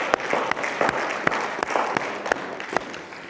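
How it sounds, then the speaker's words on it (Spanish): A church congregation applauds in praise of the Lord, a steady wash of many hands with a few sharper, louder claps standing out at irregular moments, continuous and fairly close throughout. "Es un aplauso al Señor."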